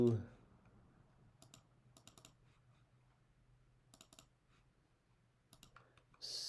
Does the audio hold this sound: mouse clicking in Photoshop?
yes